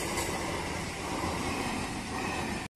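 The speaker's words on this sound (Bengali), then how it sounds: "এখন ট্রেন যাচ্ছে, গেট খুললেই চলে যাবো।" A train passes close by a closed railway level crossing gate at Shyamnagar, West Bengal, a loud steady rumble and roar of rolling wagons filling the whole clip, then cutting off abruptly.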